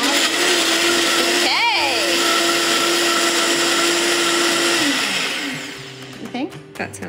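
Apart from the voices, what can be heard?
blender making a smoothie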